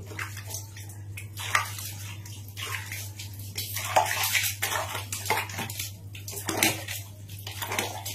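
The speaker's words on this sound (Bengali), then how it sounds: "হাতে পায়ে একটু সাবান দিয়ে নেবো আর জলটা ঢেলে নেবো" Water is poured over the body while bathing, coming in repeated splashing gushes of uneven length against a constant low hum, close by and with no one talking.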